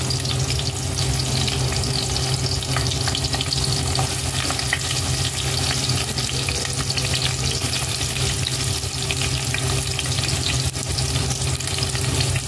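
Onions fry in a pan as the base for a stingray dish in coconut milk, a loud, continuous close-up sizzle with faint stirring scrapes and no talking.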